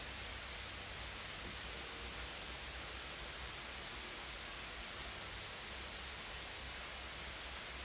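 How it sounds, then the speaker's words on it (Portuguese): Steady broadband rush of a forest waterfall, constant and unbroken throughout, a dense hiss of falling water with no voices over it. "Vocês estão escutando esse som de água? É a cachoeira."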